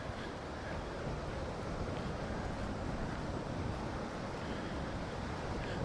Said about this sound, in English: we've had some very windy weather recently, and it continues to be windy.